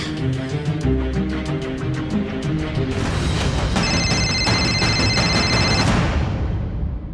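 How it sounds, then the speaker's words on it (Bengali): A telephone rings over and over with no one answering, its repeated bell bursts sounding loud and close over a dense music-like background in a Bengali drama scene, without talk. "আরে ধরছে না তো, রিং হয়ে যাচ্ছে।"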